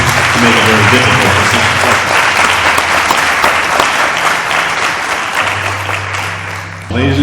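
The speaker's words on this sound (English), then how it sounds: "Can we please have a round of applause for our judges tonight" A pageant audience gives loud, sustained applause for the judges, a dense wash of clapping that tapers slightly before a voice cuts in at the end.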